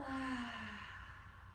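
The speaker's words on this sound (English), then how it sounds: "Cooling breath out through the mouth as you exhale." A slow breath exhaled out through the mouth during a yoga session: a soft, close, breathy sigh that trails off gradually, faint and alone.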